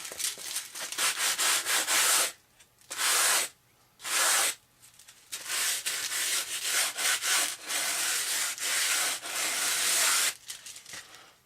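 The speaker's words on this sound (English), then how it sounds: "We sand styrofoam." Styrofoam sanded gently for a model aircraft build, in bursts of dry, hissy rubbing strokes with short pauses between, close and fairly loud, with no talk.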